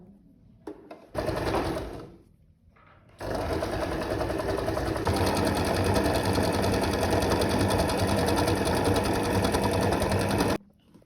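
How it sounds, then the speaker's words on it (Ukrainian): A sewing machine runs loud and close while sewing men's boxer shorts, a short burst of stitching, a pause, then a long steady run of several seconds before stopping abruptly. "Зараз я абсолютно так само пришию от сюди другу половинку"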